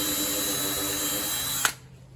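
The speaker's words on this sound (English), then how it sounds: "Pre-drilling that hole." Power drill pre-drilling a hole in wood for a small wooden punt-style boat build, a steady close motor whine that cuts off abruptly, leaving quiet room noise.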